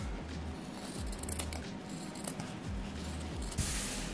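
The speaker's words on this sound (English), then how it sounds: "we're just gonna go ahead and cut these out" Scissors snip through sewn fabric pieces in a few quiet, separate cuts, close by, with soft handling rustles between them and no talking.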